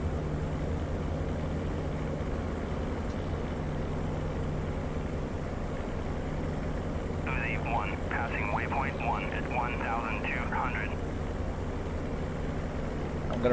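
Engine of a P-47D Thunderbolt in the flight simulator DCS World, a steady low droning rumble that holds throughout, with a brief burst of crackling chatter midway.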